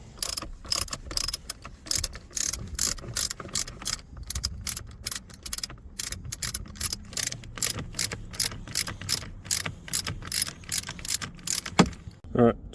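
A 10mm ratchet loosens the steering wheel bolts on a 1995 Ford EF Fairmont, giving a long run of rapid, close clicking bursts with short pauses between strokes.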